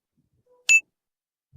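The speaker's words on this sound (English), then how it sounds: "Right, we do have Preetham who's on the buzzer for +10, -5." A single short electronic beep from a quiz buzzer at a business quiz event, sharp and high-pitched against near silence, with a faint thump afterward.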